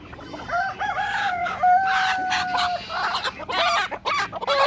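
Chickens and roosters in a backyard coop cluck and crow close by, several overlapping calls and a drawn-out rooster crow amid scratchy movement, with a faint voice in the background.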